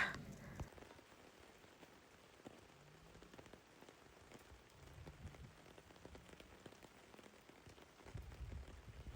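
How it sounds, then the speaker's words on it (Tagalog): Heavy rain falls as a constant, dense hiss of drops with scattered patters. It stays fairly faint and even throughout, with no voices. "lakas talaga ng ulan"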